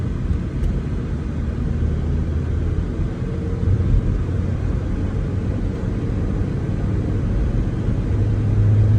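A car engine runs at a steady, loud, low rumble during an automatic transmission test in drive, swelling slightly toward the end, with no voices over it.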